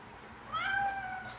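A house cat gives a single clear, rising meow in a quiet kitchen, close and moderately loud.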